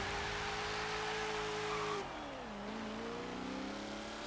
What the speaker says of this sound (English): the engine in this is really rather good